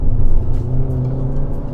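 The engine of a 280 hp petrol Skoda Superb Sportline saloon revs hard nearby, its low growl rising briefly as the car accelerates.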